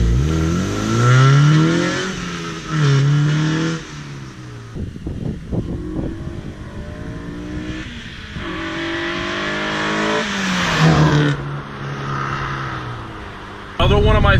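A modified Honda Civic Si engine revs repeatedly against its launch-control limiter, climbing and falling several times up close and loud, with someone talking briefly between the revs.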